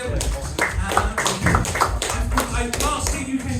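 An audience at a fringe hypnosis show claps, with separate hand claps and taps, while voices talk over the clapping.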